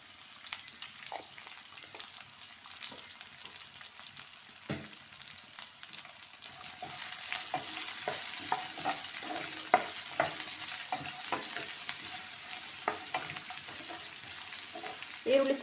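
A medium-sized chopped onion fries in hot oil in a pan for dahi upma, with a steady soft sizzle throughout and scattered scraping stir clicks, close and moderately quiet.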